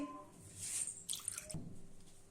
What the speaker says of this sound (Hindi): इसे हम अच्छे से धो लेंगे।